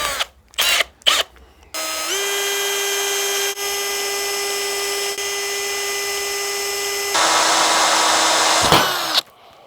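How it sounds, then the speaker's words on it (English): A power drill bores holes into a metal radio mount base, whining at a steady high pitch in one long sustained run after a few short bursts, then rising in intensity before spinning down, loud and close. "we're just going to drill a series of holes all the way around here"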